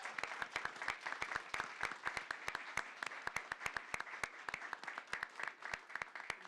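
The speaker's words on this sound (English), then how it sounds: "All round of applause for being here." An audience at a city council event claps in a steady round of applause, with distinct individual hand claps rattling quickly and evenly at a moderate distance for several seconds and no voices over them.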